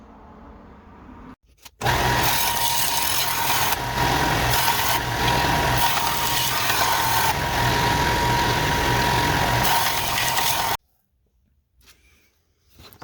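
A San Mai chef knife has its bevels ground on a machine, a loud, continuous whirring drone that starts abruptly, holds steady for about nine seconds, then cuts off into quiet.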